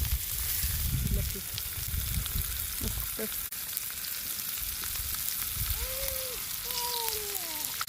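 Semolina-coated tilapia fries in oil over a wood-fired stove, crackling and sizzling steadily with scraping and stirring noises as the fish is flipped, with faint tonal squeaks near the end.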